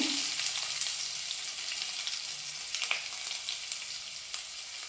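Curry leaves and garlic fry with mustard seeds in hot oil for a basale soppu dal, a continuous close sizzle broken by scattered sharp crackles and pops.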